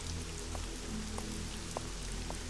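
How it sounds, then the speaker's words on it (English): Steady rain falls in the Nancy Drew video game, a constant soft hiss with faint scattered drop taps over a low background hum, no voices. "Let's go inside so Nancy's not standing out in the rain."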